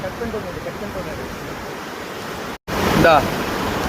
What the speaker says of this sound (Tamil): இன்னைக்கு ஞாயிற்றுக்கிழமை குத்தாலத்துல வெள்ளப்பெருக்கு